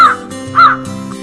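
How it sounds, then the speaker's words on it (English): A crow gives two loud, harsh caws close by, separated by a short pause, with a faint third call near the end. "This is a crow."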